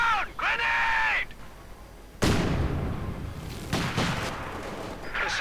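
A grenade blast in a World War II real-time strategy game bursts loudly after a few seconds, followed by a sustained rumble of gunfire and scattered smaller explosions, with brief battlefield voice effects heard at the very start.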